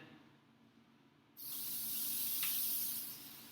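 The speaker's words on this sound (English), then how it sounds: "just going to season initially with some pan spray" Cooking pan spray hisses from an aerosol can as a pan is seasoned, a steady close hiss starting abruptly partway through and holding for about two seconds before easing off.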